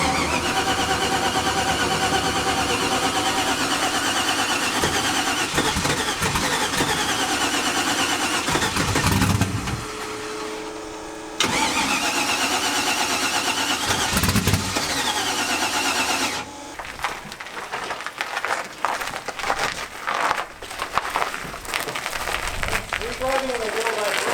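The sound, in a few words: car engine cranking on the starter motor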